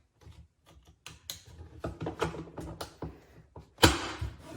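Small plastic clicks and fumbling rattles as the door light connector is plugged in on a 2010-2015 Lexus RX350 front door, ending in a louder snap, close and quiet.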